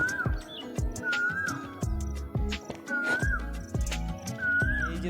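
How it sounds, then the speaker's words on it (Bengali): Asian koel calling outdoors in a village pasture where cattle and goats graze, a repeated rising whistled call sounding four times at a steady pace, clear and fairly near, over rustling and thumping activity nearby. "এই যে দেখো কোকিলের ডাক।"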